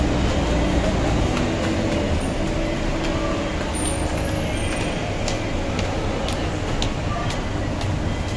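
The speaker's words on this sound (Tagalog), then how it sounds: "Maganda kasi mga ka-vlogs mag LRT eh." Riding inside an LRT light rail train: a steady, loud rumble of wheels and carriage noise fills the whole stretch, with faint ticks and squeals over the continuous roar.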